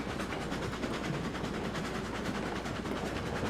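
Lake Valley train rolling along a new line in the video game RailRoads Online, a steady, faint rumble with a quick repeating clatter throughout, no talking.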